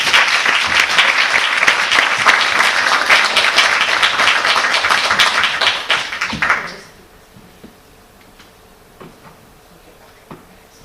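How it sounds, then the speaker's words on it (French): Applause from an audience at a women's achievement awards event welcoming a speaker, loud steady clapping for about six seconds that quickly dies away into near-silence with a few scattered taps. "Sous vos applaudissements, je vous demande d'accueillir Madame Dorothy Alexandre."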